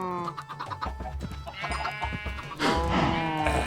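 Minecraft sheep bleating on a farm in the game, several wavering bleats overlapping in quick succession, close and clear, with a louder burst near the end.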